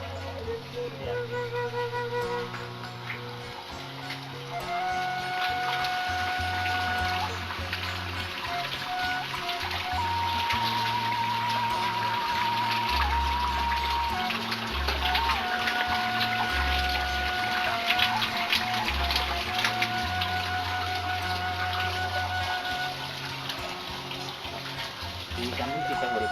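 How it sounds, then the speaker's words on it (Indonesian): Water pouring steadily from three spring spouts at a village bathing site, a continuous splashing rush with faint background sounds throughout. "Ini ada 3 pancuran."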